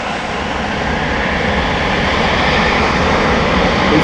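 A KLM airliner's jet engines roar steadily at close range as it passes at Amsterdam Schiphol, a broad, sustained rumble holding loud throughout with a slight swell toward the end.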